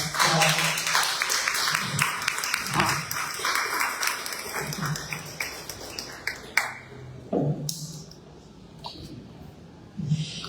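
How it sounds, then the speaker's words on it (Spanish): Audience applause welcoming a speaker to a talk on the Virgin Mary, a broad clapping texture that thins out with scattered claps and a few sniffs or small noises, with some faint voices mixed in. "Vamos a recibirla con un fuerte aplauso"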